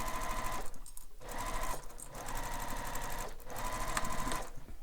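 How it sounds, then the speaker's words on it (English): A sewing machine stitches the top edge of a fabric wallet, running loud and steady in close-up, with two brief pauses where the needle stops before it starts up again. "we're going to sew the top edge only"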